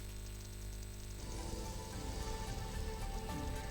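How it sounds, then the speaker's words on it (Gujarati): Heavy downpour in Rajkot hisses steadily on surfaces, a dense, continuous wash of rain that grows fuller and louder after the first second, with no voices. "રાજકોટમાં ધોધમાર વરસાદ વરસ્યો છે"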